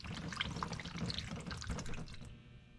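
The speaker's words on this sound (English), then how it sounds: "So while that coolant is draining" Liquid pours and splashes steadily as coolant drains from a Shelby GT350 during an oil pump gear upgrade, a continuous close trickling with no talk over it.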